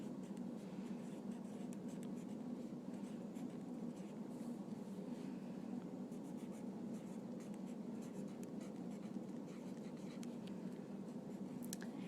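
A red colored pencil scratches steadily across paper in an unbroken stretch of soft, close, dry writing noise, with no speech over it.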